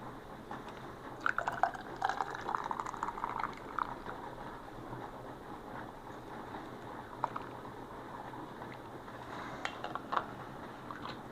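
Liquid is poured into canning jars, making quiet splashing and trickling with intermittent drips and small clinks, busiest early on and again near the end, with no talking.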